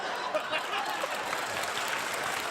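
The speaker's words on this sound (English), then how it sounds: "Applause break for that." Faint, steady clapping from an audience, sounding distant and thin, with some murmuring mixed in over a couple of seconds.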